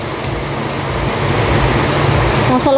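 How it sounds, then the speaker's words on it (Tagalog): Heavy rain pours outside a home in a storm as a dense, steady, loud hiss with a low rumble throughout. A brief tonal sound comes in at the very end. "Ang lakas po ng ulan."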